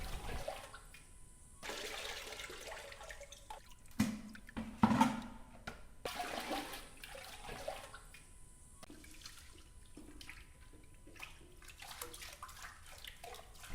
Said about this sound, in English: After washing the millet, we rinsed it several times to make sure that it's completely clean